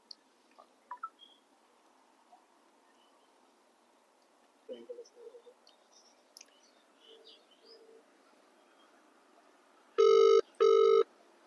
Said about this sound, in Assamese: আৰু একবাৰ ফোন মাৰিছোঁ